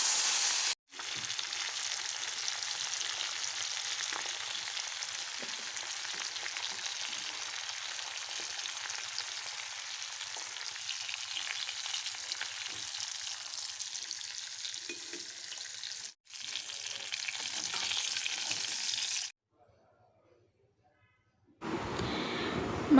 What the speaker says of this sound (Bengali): মাছগুলোকে ভেজে তুলে নিয়েছি